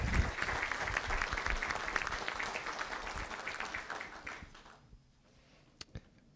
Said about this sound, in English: one more round of applause for Margaret E. Hondelink.